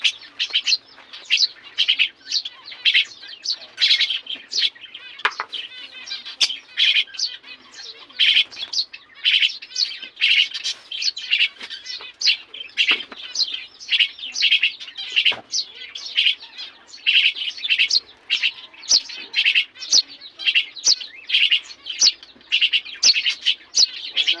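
Pet quail in a cage chirping nonstop while waiting to be fed, a dense and steady chatter of high, rapid calls, close and fairly loud throughout.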